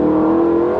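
Aston Martin Vantage accelerating hard with its traction control stepping in, a loud, close, steady engine note that holds without a break.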